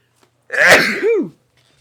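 A single sharp sneeze with a breathy intake followed by a forceful, voiced burst, close and loud against a quiet background.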